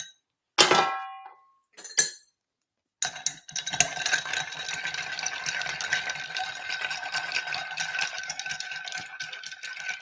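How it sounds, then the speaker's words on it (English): Ice clinks and clatters as a cocktail is stirred with a spoon for dilution, starting with a few sharp knocks and then a steady, close rattling swirl that carries on. "we're going to stir this cocktail for dilution"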